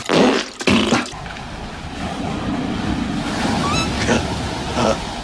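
A large bucket of water at a water park dumps with a heavy splash, giving way to a sustained rushing pour, with distant shrieks and voices around it.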